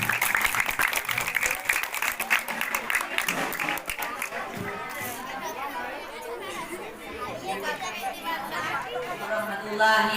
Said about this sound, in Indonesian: Tepuk tangan untuk Sukaryadi.